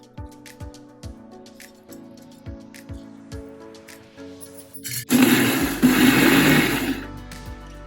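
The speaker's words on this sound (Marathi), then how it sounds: "आता हे आपल्याला मिक्सरच्या भांड्यामध्ये वाटून घ्यायचे" Soaked rice and moong dal ground in a mixer grinder: a few light rhythmic taps first, then a loud, rough whirring roar that lasts about two seconds before easing off.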